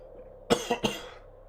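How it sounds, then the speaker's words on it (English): Three quick, sharp coughs in a row, close and fairly loud, with quiet room tone before and after. "I've got a bit of a cough this morning"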